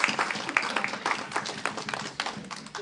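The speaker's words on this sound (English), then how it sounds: "A round of applause." A small group applauds, a scattered patter of claps rising and falling unevenly for a few seconds, close by.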